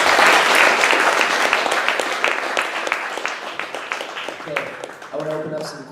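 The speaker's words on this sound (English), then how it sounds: "let's give Richie a round of applause real quick." An audience at a Startup Grind entrepreneur talk gives a round of applause that starts full and dense, then thins over about five seconds, ending as a voice begins speaking.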